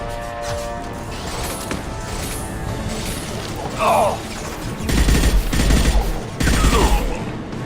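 Impact shot ability fire from the Mass Effect 2 game: dense, loud battle noise with sharp bursts and heavy impacts clustered toward the end, a mechanical whine in between, over steady combat din.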